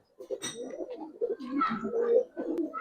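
Giribaz pigeons coo close by in a string of soft, throaty rolling calls that overlap one another without pause.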